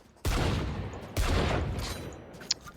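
Two heavy, booming shots from the Outlaw sniper rifle with the Kuronami skin in Valorant land about a second apart, each loud and close, followed by a long ringing tail.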